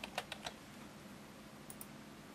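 A few quiet clicks of typing on a computer keyboard, a brief cluster at the start and a couple more taps later, over a faint room hum.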